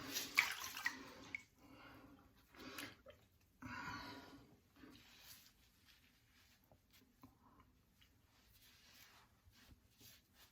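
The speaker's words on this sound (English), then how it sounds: "I'm going to go ahead and wash off the soap" Water splashing and dripping close by as shaving soap is rinsed off a face after a straight razor shave, with soft irregular splashes and patters that are loudest at the start and then quieten.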